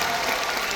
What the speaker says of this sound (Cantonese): 可唔可以俾啲好靚熱烈嘅掌聲我哋 dancers？